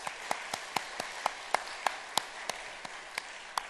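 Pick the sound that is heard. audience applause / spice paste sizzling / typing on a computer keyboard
audience applause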